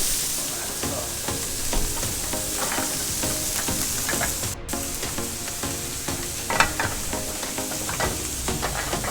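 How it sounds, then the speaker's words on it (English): Grouper fish frying in butter in a massive pan, a loud, dense, continuous sizzle and crackle with a faint spatter here and there. "This is like that's a massive pan, so I'm still gonna incorporate butter in there because I don't want the fish to dry out."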